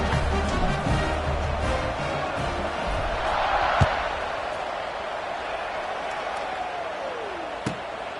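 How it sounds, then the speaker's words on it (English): Football stadium crowd during a third-quarter kickoff: a steady, loud wash of distant cheering and roar that swells slightly midway, with a couple of sharp thumps and no clear voice on top. "this crowd is feeling themselves after that last drive"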